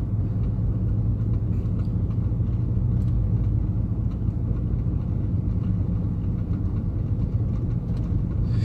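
Steady, loud low road rumble from inside a car being driven along a road through a volcano area, continuous engine and tire drone with no talking.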